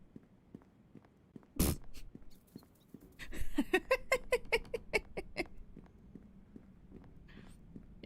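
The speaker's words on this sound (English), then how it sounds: "You're just having a great time stomping there," A character stomps along in the Neverwinter Nights video game, making steady, evenly spaced footfall thuds throughout. A loud impact sounds early, and a short tonal, chiming passage plays midway.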